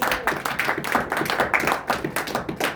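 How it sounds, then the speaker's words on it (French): A church congregation claps for the Lord during a bilingual French-English sermon, a dense, steady run of hand claps filling the room with a loose rhythmic pulse. "Can you clap for the Lord?"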